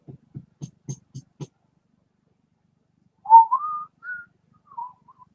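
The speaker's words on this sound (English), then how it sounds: "I'm just going to whistle us" A person whistles a short, wavering melodic phrase of a few rising and falling notes, clear and close, after a run of soft rhythmic taps, with no talk.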